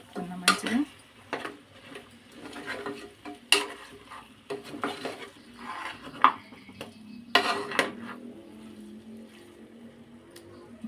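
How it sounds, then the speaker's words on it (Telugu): A spoon stirs mutton leg curry in a metal pot, giving irregular scraping and clinking strokes with sharp knocks against the rim, close by and moderately loud, with a faint sizzle between strokes. "కలుపుకుందాం మంచిగా."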